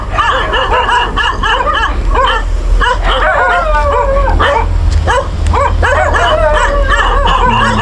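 Several dogs bark, yip and whimper repeatedly along a roadside, close and loud over a steady low engine hum.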